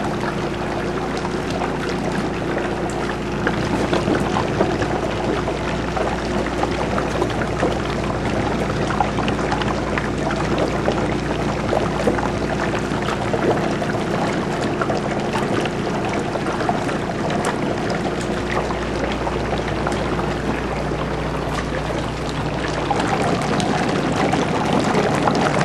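Gas from a large 20 LPM, 118-plate, 240-volt hydrogen generator bubbles vigorously into a bottle held underwater, a steady loud gurgling and pouring rush with a constant electrical hum beneath.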